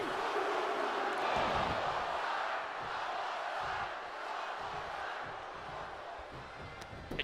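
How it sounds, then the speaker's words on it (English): Crowd noise from a wrestling video game match, a steady roar of many voices that seems to swell into a chant, holding fairly loud and even throughout before easing slightly near the end. "A chant of one more time from the crowd"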